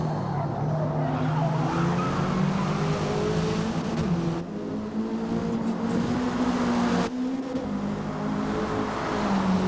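Identically powered race cars roar around a circuit side by side, their engines loud and sustained. Pitch shifts come with gear changes, along with a faint edge of tire noise, and nobody speaks.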